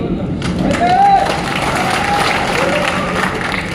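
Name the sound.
audience applause during a speech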